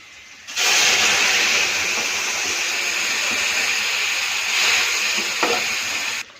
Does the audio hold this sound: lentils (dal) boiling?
yes